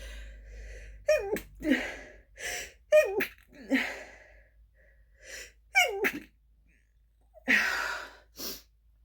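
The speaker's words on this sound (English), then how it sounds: "I feel like I have to sneeze" A sneeze bursts out amid gasping breaths and short vocal sounds, with a couple of sharp explosive bursts close to the listener.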